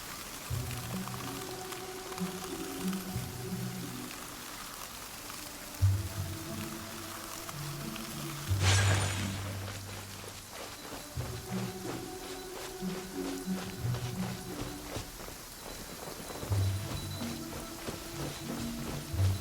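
Steady rain pattering in the video game Genshin Impact, a constant soft wash running through the whole stretch with a louder splashy burst midway and faint rhythmic footsteps or hoof-like clops underneath.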